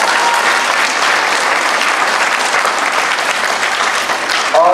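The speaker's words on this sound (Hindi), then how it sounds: "दोबारा अपने लिए भी तालियां बजाइए" Sustained applause from an audience at the close of a theatre workshop, a dense, steady wash of many hands clapping that holds at full strength throughout.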